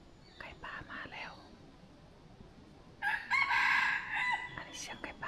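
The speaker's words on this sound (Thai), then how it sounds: "อันนี้เสียงไก่ป่านะ" A wild junglefowl crowing in a forest: one clear, fairly close crow rises over the quiet background in the second half, and a person whispers softly before and under it.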